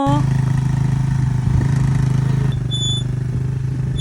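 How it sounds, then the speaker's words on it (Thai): An ATV engine runs loud and close with a steady, buzzing drone, its pitch wavering slightly, while it is ridden at a campsite among wind turbines in Khao Kho, Thailand. "แล้วก็ชวนกันไปขับ ATV กันต่อ"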